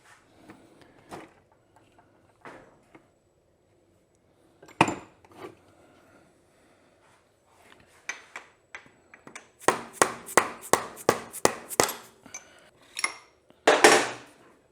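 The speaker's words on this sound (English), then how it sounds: "Now the axle needs a little tappy tap tap." A hammer taps the axle out of a Honda CRF450R motorcycle fork, first a few scattered metallic knocks, then a quick series of about ten sharp, ringing close strikes, followed by a final cluster of hits.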